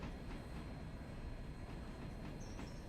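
A train in the Railroader video game rolls along at low volume, a steady rumbling wash with faint rhythmic clicks of wheels over rail joints and a thin high squeal near the end.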